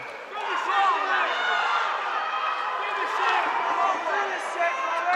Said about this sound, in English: Crowd is baying for blood. They want a knockdown.